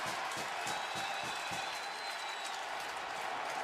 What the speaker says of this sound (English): The crowd is absolutely loving it.